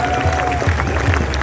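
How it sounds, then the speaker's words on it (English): Brief burst of crowd applause at a Freedom Convoy rally outside Parliament House in Canberra, scattered clapping under a thin hum. "Give yourselves a round of applause."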